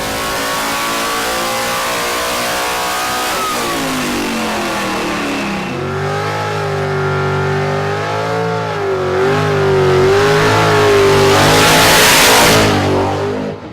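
A car engine idles with a deep rumble, then revs up and down repeatedly, climbing to a loud, roaring peak before settling.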